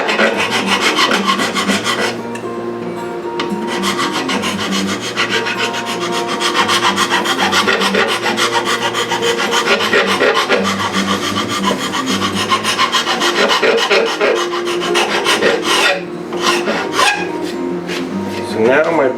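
Hand file rasping a wooden guitar bridge to round off its end, loud close rhythmic scraping strokes repeating steadily throughout, with faint background sounds.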